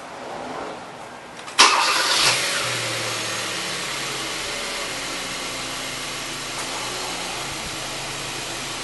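A 2013 Kia Soul's engine cranks and fires with a sharp burst, then settles into a steady, even idle that runs on without talk.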